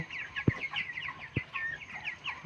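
A flock of 25-day-old broiler chickens in a small farm shed at night keeps up a steady chorus of high, overlapping chirps and clucks, punctuated by two dull low thumps.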